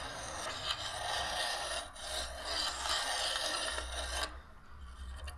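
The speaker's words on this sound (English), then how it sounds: "Taking all that rust off." A hand file rasps steadily back and forth, scraping rust off a metal part. The rough grinding runs without a break for about four seconds and then stops abruptly, leaving a quieter tail.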